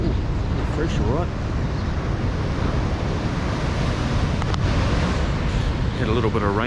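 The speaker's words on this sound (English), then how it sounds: "Because of the noisy waves." Rough ocean surf and strong wind roar continuously near a campsite in stormy weather, with gusts buffeting the microphone and a voice speaking briefly over the noise.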